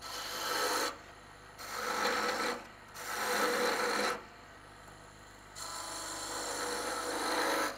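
A woodturning gouge cuts a wooden spatula handle spinning on a lathe, giving a raspy scraping hiss in several bursts separated by short pauses, close and steady, with no talking.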